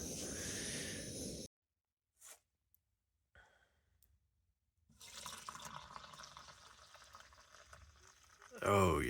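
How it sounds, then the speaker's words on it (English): Water heats in a pot on a camp stove at a riverside spring, a steady hiss and rumble of the burner and warming water, cut by a break of near silence, with louder clattering at the end. "And the water's on the fire, on the stove."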